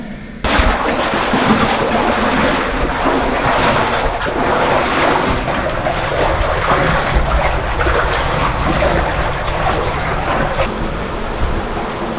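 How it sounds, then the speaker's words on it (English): Constant loud roar of water rushing inside an abandoned Cornish mine adit, broad and unbroken throughout, with no voices. "that water that you can hear roaring in the background"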